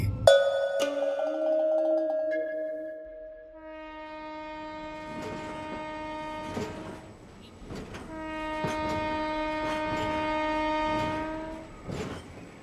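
A train leaves Howrah station with long, loud, tonal horn blasts repeated over steady rumbling rail noise, sounding close and clear with no talking.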